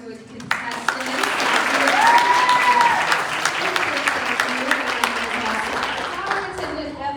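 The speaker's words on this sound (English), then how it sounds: "let's give another round of applause for our two contestants" An audience at a Ms Wheelchair Kansas pageant applauds two contestants, with steady clapping that swells and then fades while voices mix in the room.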